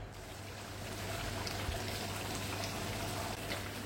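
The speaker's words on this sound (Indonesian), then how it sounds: "Ini udah meletup-letup, udah nyiprat-nyiprat, tandanya minyaknya udah keluar ya." Beef lung rendang simmers in a wok as its oil separates, giving a steady low bubbling with faint scattered pops and spatters throughout, with no voices.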